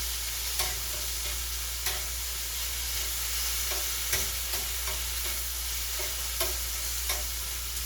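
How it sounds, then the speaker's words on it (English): Steak salad ingredients with caramelized onions are tossed in a hot pan with tongs, giving a steady soft sizzle broken by repeated sharp clicks and scrapes at an uneven rhythm, close and moderately quiet, with no talking. "toss it around a bit with the tongs or your spatula"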